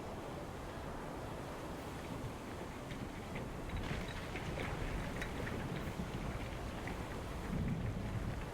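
Thunder rolls through a lightning storm at sea in The Pale Beyond game, a steady low rumble blended with rain and surf-like wash, continuous and moderately loud with faint crackles, no voices.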